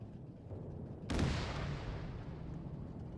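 A single heavy cannon shot from an SU-85 self-propelled gun in a World War II tank game: one sudden loud boom with a long rumbling tail over low background rumble.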